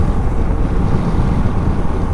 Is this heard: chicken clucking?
no